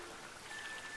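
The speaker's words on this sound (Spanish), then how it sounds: "¡Ha empezado a llover!" Steady cartoon rain fills the scene, a soft continuous patter of drops on surfaces with a faint hiss, even and unbroken with no voices over it.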